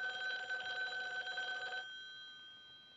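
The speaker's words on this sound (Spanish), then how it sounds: "Contesta el teléfono." A telephone bell rings in a continuous electric trill for almost two seconds, then stops and leaves a faint fading hum. It is moderately quiet, indoors, with no talk.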